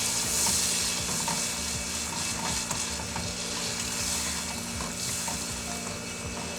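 Chocolate cake batter with a splash of milk is stirred by hand in a bowl, making repeated soft scraping strokes over a steady background hiss, with no talking.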